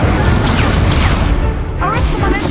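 The Incendio fire spell in the Hogwarts Legacy video game goes off as a loud, forceful blast with rumbling bursts and a brief dip before the roar surges again.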